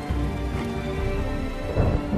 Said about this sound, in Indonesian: Di tengah malam disertai hujan yang lebat